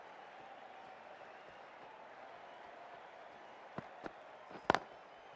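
Crowd at a cricket stadium during an India versus England one-day international, heard as a steady distant wash of applause and murmur, with a few sharp knocks near the end.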